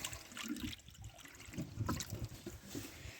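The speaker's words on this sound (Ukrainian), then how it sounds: "Вода." Water is poured for poultry on a village farm, making a faint, close trickle and splash against a quiet outdoor background.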